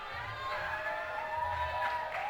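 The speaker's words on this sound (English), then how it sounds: "Crowd really urging Sasha Digiulian on." Spectators at the 2015 SCS Open National Championships climbing finals cheer and shout encouragement for climber Sasha Digiulian, a moderately distant, sustained crowd roar with whoops rising over it.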